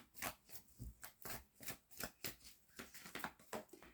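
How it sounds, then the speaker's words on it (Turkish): Three tarot cards drawn from a deck and laid down: a quick series of close, crisp papery flicks and slaps in an uneven rhythm, with no talking. "Üç kart çekelim."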